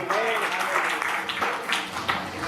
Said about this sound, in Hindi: रवि भैया के लिए जोरदार ताली बजाएगी।